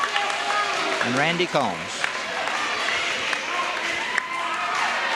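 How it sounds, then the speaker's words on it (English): A crowd at a 1982 McDowell vs Letcher County high school basketball game applauds the seniors, a steady wash of clapping and murmur under an announcer reading names over the public address. "the crowd is giving them an arousing applause"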